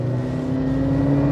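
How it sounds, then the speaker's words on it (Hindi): A BAIC BJ40 turbocharged SUV accelerates in normal mode, its engine giving a steady, rising hum close to the listener with no talking. "नॉर्मल मोड में अगर आप इसको एक्सेलरेट करते हैं तो चूंकि टर्बो है"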